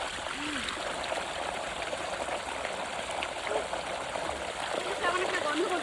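Water pours from a pipe in a steady, continuous close-up rush and gurgle that stays even throughout.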